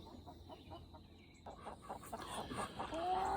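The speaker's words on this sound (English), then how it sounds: "the ducks are and the chickens are very, very keen to get fed this morning." Chickens clucking and squawking eagerly while waiting to be fed during morning chores, several birds close by, growing busier and louder, with other farm noise in the background.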